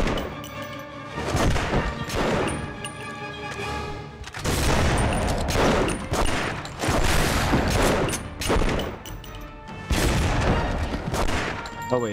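Rapid gunfire in The Punisher on PS2, loud sustained volleys of shots and impacts in long bursts separated by brief pauses, dense and close throughout with no speech.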